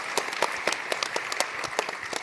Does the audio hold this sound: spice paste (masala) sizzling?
no